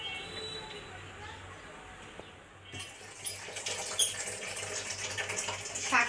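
Tap water splashing over leafy greens for an aloo shaak dish, first faint, then a louder steady rushing stream over a faint background.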